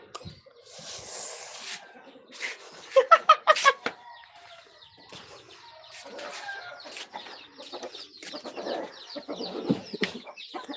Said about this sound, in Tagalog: Papakain tayo ng manok.